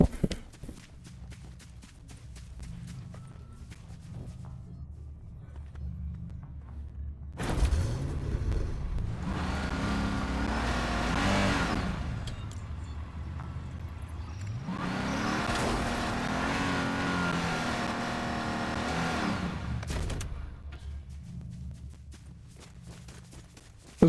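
A car engine in Fortnite revs in two long sustained surges, rising and falling in pitch, loud and close, with lighter in-game noises before and after.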